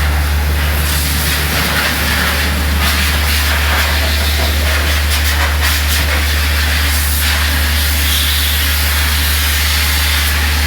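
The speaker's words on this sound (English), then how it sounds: "One guy's in there blowing the stuff loose on the one side, and the other guy's spraying now." A pump sprays whitewash inside a barn, a loud continuous hiss over a steady low motor drone, with faint clattering and shifting noise throughout.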